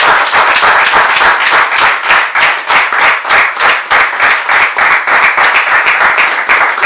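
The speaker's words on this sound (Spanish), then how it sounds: "te vamos a dar un aplauso." A small audience claps steadily and loudly, the distinct hand claps forming a rhythmic, close applause with no talking.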